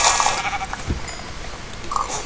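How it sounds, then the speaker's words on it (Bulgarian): Sheep bleating in the video game Minecraft, a few short bleats scattered over quiet in-game background sounds. "Овце още чувам."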